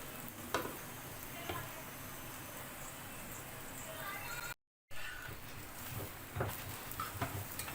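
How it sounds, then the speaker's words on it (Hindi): An aloo paratha cooks with oil on a hot pan, giving a steady close sizzle with occasional scraping and stirring clatters. Someone talks over it, and there is a brief break midway. "दो मिनट के लिए पकाऊंगी नीचे से। ऊपर वाली साइड पे भी ऑयल लगा लेंगे।"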